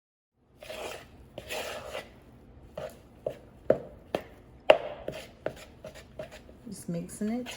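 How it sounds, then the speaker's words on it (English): Homemade biscuit dough for a family biscuit recipe being mixed by hand in a bowl, heard as irregular soft thuds, scrapes and taps close by, with occasional quiet voice sounds between strokes. "Just mixing it together. Starting to come together."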